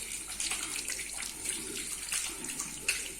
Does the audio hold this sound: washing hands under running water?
yes